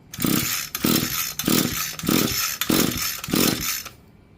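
Echo SHC-225S hedge trimmer being pull-started: six rhythmic, evenly spaced recoil pulls, each a loud buzzing crank of the small engine, close by, with no talking.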